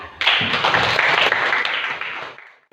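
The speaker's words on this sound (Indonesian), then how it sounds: "beri aplaus untuk Mbak Sofia" A classroom of students applauding a classmate: a brief burst of dense clapping that starts sharply, holds for about two seconds, then fades out.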